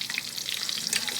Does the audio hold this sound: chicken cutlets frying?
yes